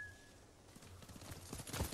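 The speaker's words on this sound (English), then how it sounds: "Oh, I can call my damn horse." In the samurai video game Ghost of Tsushima, a summoned horse approaches with hoofbeats growing louder over about two seconds, from a soft patter to heavy, close thuds at the end.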